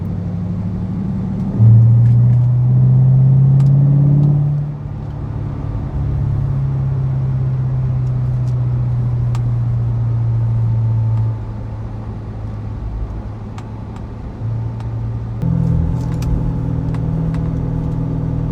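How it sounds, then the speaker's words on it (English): A red 2014 Chevy Corvette Stingray with a manual transmission, heard from inside, rising and settling through its gears with a steady deep engine rumble and one strong rev near the start, with no talking. "driving a red Corvette Stingray"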